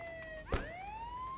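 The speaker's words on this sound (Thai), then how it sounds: "ปิดไซเรนนะ" A police car siren in the video game Contraband Police wails up and down in a steady tone, close and moderately loud, with a brief thump partway through.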